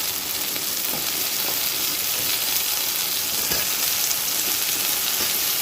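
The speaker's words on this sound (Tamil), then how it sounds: "இப்போ இந்த கத்திரிக்காய் கொஞ்சம் நேரம் வதங்கட்டும், பார்க்கலாம்" Brinjal and tomato sauté in a pan for a tamarind-water curry, giving a steady, close sizzle with small crackles throughout and no talking.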